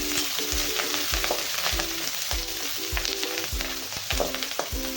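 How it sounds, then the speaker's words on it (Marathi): Onions with curry leaves frying in a pan, a steady close sizzle with rhythmic scraping stirs every half second or so, no voices. "थोडासा कढीपत्ता टाकलेला आहे कांद्याला छान लाल होत भाजून घेऊया"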